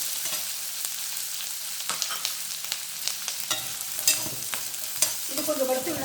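Chana dal and small onions roast in hot oil in a pan while being stirred, giving a steady sizzle broken by irregular scraping strokes and clicks of the spoon, close and fairly loud, with no talk.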